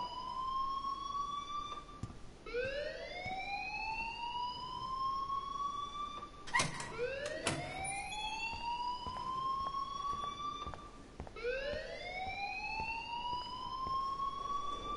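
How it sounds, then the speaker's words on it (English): A repeating electronic alarm in the video game Life is Strange, rising whoops sweeping upward again and again in a steady cycle, loud and alone with no talk over it. "please turn off that alarm since that's your job"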